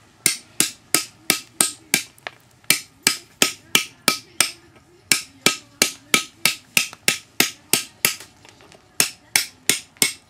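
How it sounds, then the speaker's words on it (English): A hammer strikes a chisel while carving a stone sculpture in a workshop. The taps are sharp, close and evenly paced, about two or three each second, continuing steadily with no talk. "But you are using a different hammer now as last time, aren't you?"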